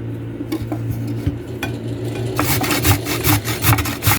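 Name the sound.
carrot being finely chopped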